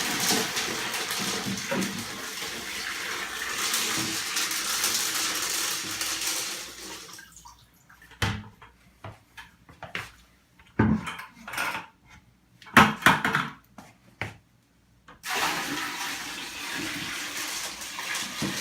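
Roughly ten gallons of water are poured from two buckets into a saltwater quarantine tank: a steady rushing pour, a pause filled with scattered plastic clunks and knocks, then pouring resumes near the end.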